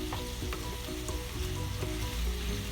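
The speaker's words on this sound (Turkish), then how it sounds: "Şöyle güzelce salçayla beraber tüm malzemeleri karıştırıyorum." Chicken sauté with tomato paste stirred in a pan, a dense, constant sizzle with soft scraping stirs underneath, steady and close throughout.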